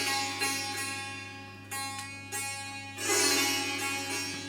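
Sitar tuning and opening notes at the start of an Indian classical concert, plucked strings ringing in a few separate strokes with a steady drone beneath, close and fairly loud, no talking.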